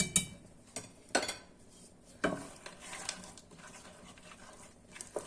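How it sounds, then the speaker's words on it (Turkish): A spoon stirs mixed almonds into a thick Turkish delight mixture made with apple soda, producing soft, scattered clinks and scrapes against the pot, quiet and close, with a few sharper knocks. "Onu da boşaltalım ve karıştıralım. Ve iyice karıştıralım arkadaşlar."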